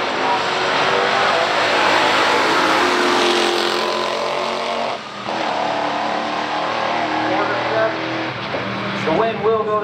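A Ford Torino with a 429 Ford V8 and a Chevrolet Camaro SS run a stock drag race, their engines roaring loudly and continuously in a close, dense wall of sound that dips briefly midway, with an announcer talking over it.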